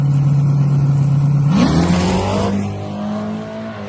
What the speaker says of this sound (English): We got this beautiful 69 Camaro over here. It's got a big block in it, boy.